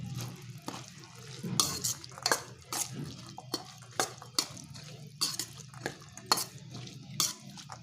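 A spoon scrapes and stirs through a thick pea curry in a pan, in repeated irregular strokes with light clinks of metal, close by and without talk.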